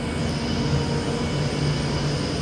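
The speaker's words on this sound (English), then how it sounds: "let's get on this train" A train sits at a station with a continuous low rumble and hum, steady and moderately loud, with faint high squeal traces and no voices.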